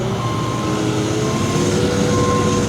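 A JCB 1CXT backhoe loader on rubber tracks idles with a steady, loud diesel drone and a faint whine, its engine note holding continuous with no voices.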